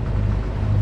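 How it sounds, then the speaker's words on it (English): A sailboat's engine drones on a windless day, a steady low rumble with even texture and no voices. "Been under engine since 10 o'clock this morning."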